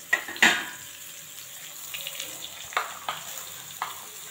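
Sliced ridge gourd goes into hot oil already seasoned with whole cumin and Bengali five-spice, giving a soft hiss and sizzle with a few clattering stirs and knocks from the pan. Nobody speaks.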